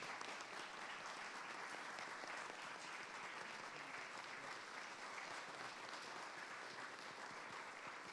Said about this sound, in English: Please, once again, a big round of applause upon his leave.